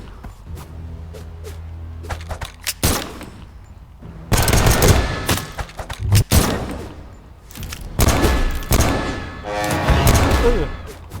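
Rapid gunfire in the Brawlhalla fighting video game, with two loud stretches of dense, crackling shots and thuds, after quieter game sounds with a voice talking.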